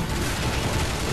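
Gunfire from a gun in the Bulletstorm shooter, a brief, loud, dense burst of blasts with no pause.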